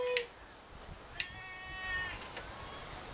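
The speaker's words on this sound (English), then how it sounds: "You can hear our little zombie cat out here making a bunch of noise." A cat meowing outdoors, a few short plaintive calls spaced apart, the second one sharper, with faint background noise between them.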